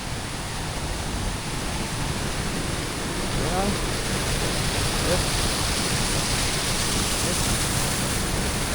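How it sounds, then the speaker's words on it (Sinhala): Water discharged from a hydroelectric power station near a waterfall roars as a loud, constant broadband rush, unbroken throughout, with no distinct voices standing out above it. "මේ තමයි විදුලි බලාගාරෙන් විදුලිය නිපදවලා ඉවර වෙලා එළියට දාන වතුර ටික මේ තමයි එළියට එන්නේ"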